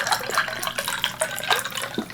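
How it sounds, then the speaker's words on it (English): Crystal Light lemonade poured into a cup, a close trickling and splashing of liquid with small irregular drips and gurgles throughout. "Let's pour ourselves a cup"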